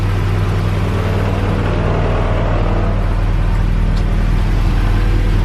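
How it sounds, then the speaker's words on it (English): A car engine idles while it warms up in the morning, giving a close, steady, low rumble with a constant droning hum that barely changes over several seconds and has no voices over it. "I'm just warming up the car."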